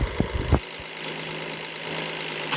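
A vehicle engine in the Roblox game RV Cooked hums steadily after a few brief knocks at the start, a sustained, even drone suggesting a gear shift in a running motor.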